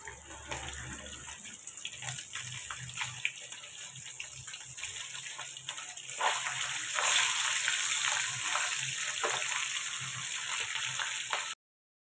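A pile of dishes is washed in a sink under a running tap, with a continuous close gush of water that grows louder about halfway through and stops abruptly at the end.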